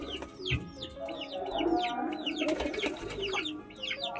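Lotan pigeons released for a bath, with repeated soft cooing and fluttery bird calls close by, layered over a continuous murmur of other birds.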